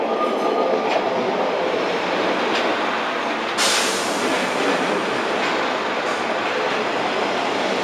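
A Class 144 Pacer diesel train, unit 144002, at Lincoln Central station produces a loud, steady roar of engine and wheel rumble with faint rail clicks, rising in intensity partway through.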